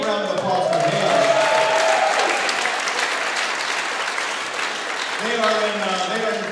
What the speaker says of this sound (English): A big round of applause for Hales.